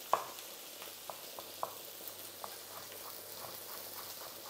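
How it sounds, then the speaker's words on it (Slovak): Chicken breast sears in a hot pan, a continuous soft sizzle with small crackles and pops at irregular intervals, close and without talk. "Mäso opekáme z prúdka z oboch strán."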